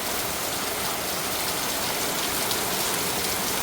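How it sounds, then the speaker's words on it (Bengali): Rain beginning to fall in Bangladesh, a steady close hiss of drops striking surfaces that holds evenly throughout with no voices. "দেখেন রহমতের বৃষ্টি শুরু হয়ে গেছে"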